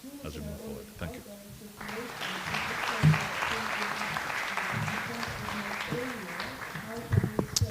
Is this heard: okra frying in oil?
no